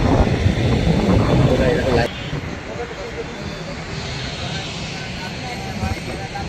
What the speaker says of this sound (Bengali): ইউএস বাংলার এটিআর এক্সট্রা এই তো এগুলো টেক অফ করবে